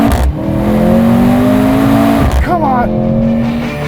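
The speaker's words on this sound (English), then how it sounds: "We're gonna launch this thing, put this thing in sport." Mercedes-AMG GLC 43 in sport mode launching hard from a standstill, its engine roaring loud and steady, then a brief dip at a gear change before pulling again; a voice speaks briefly over it.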